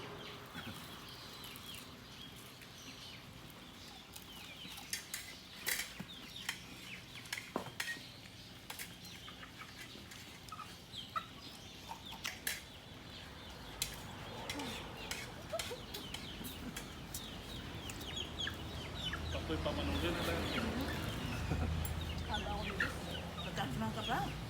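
Chickens cluck and squawk intermittently amid scattered clinks and rustles, with people talking faintly in the background.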